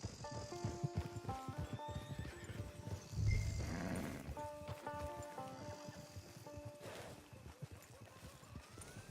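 Horse in the Red Dead Online video game, with steady clip-clop hooves and a loud whinny midway, set against an orchestral score and ambient game sounds.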